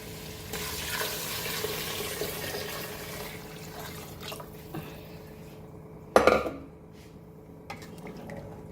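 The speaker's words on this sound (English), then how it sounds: "Now I will add the water." Water pours into a pot of fried meat for mandi biryani, a steady splashing wash with clinking of pot and utensils and a louder burst of pouring near the end, no talking.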